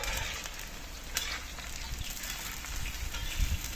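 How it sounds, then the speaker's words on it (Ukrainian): Onion and carrot fry in a pan with a steady, dense sizzle, close and continuous, with faint stirring ticks and no talk. "цибуля і морква жариться"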